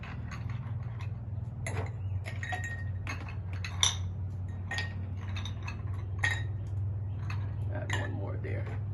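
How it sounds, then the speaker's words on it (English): Ice cubes dropped one by one into a glass of bourbon for an old fashioned, a string of sharp close clinks over a low steady hum. "And you can't forget your ice."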